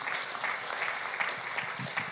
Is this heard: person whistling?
no